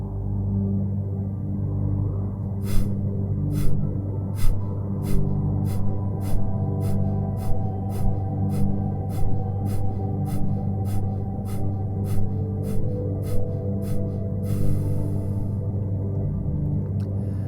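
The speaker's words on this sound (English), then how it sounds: "a little bit faster, exhaling through your nose, contracting your belly on each exhale" Fast, forceful breaths pushed out through the nose during a yoga breathing exercise, the belly contracting on each one, in a steady quick rhythm of sharp bursts over a constant low background hum.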